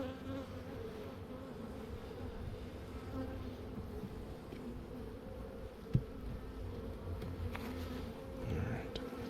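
Honey bees from a swarm trap buzz around a lifted hive frame, a dense continuous hum filling the space close by, with one short knock partway through.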